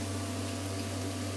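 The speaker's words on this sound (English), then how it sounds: "sausages are in the active fry, apologies for the noise." An Actifry air fryer running steadily while it cooks sausages, with a constant close-up hum and motor drone holding a strong low tone and never changing.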